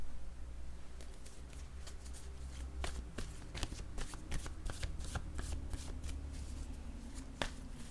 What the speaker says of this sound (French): Je vais déposer une carte mot sur cette femme.